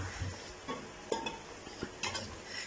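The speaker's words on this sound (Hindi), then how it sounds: "अदरक लहसुन के साथ इसे भूनेंगे" Mutton fries with ginger garlic paste in a pot, giving a faint, close sizzle with scattered light stirring scrapes and a few soft utensil clinks.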